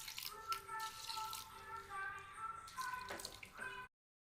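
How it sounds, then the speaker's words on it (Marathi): Water is poured into a pressure cooker holding washed rice for a quick chicken biryani, a close, steady splashing pour lasting a few seconds with a slight metallic ring, then stopping abruptly. "तर याच्यामध्ये थोडंसं पाणी टाकूया"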